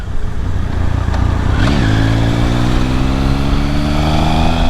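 A motorcycle engine running loud and close with its Two Brothers racing exhaust removed, a quick rev rising then settling into a steady droning hum.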